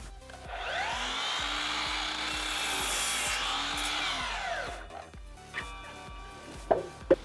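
A Milwaukee M18 10-inch cordless miter saw with a 40-tooth blade spins up and slices through oak hardwood flooring in one smooth, whining cut lasting several seconds, then winds down, followed by a few light knocks and clicks.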